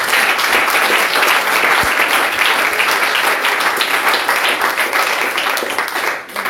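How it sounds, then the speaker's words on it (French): A church congregation applauds for the Lord during a service, loud sustained clapping from a large crowd that holds steady, then eases slightly at the end. "Applaudissons encore pour le Seigneur"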